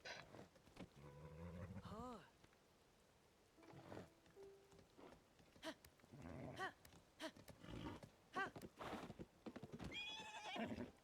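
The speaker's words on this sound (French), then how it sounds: "je sais même plus conduire un cheval." A horse in the video game Zelda Tears of the Kingdom gives repeated whinnies and snorts while hooves clip-clop beneath them, set among other game sounds and scattered talking.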